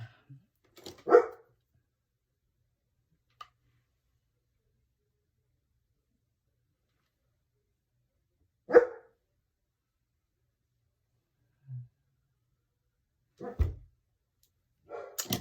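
A few scattered barks from puppies, short isolated yips spaced apart with long quiet gaps between them, fairly close by.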